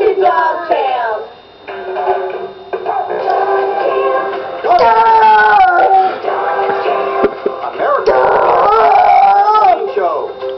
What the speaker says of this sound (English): these are our dogs, Buddy and Newton